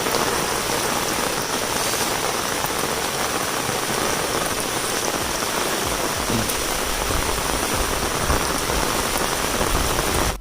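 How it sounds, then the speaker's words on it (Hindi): Heavy rain pours steadily over a forest, a dense continuous hiss of drops close by with no pauses and no voices. "वर्षा होचे देखि पारथिबे केते बहुत वर्षा होचे"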